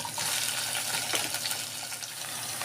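Chopped ivy gourd (dondakaya) goes into a hot frying pan, giving a steady, close, rushing sizzle that holds evenly throughout with no talking.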